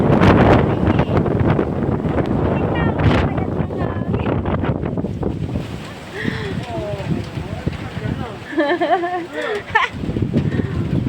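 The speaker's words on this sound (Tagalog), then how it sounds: "Ang lakas ng hangin." Strong typhoon wind in Taiwan buffets a microphone with loud gusty rumble, under excited talking and some shouting close by.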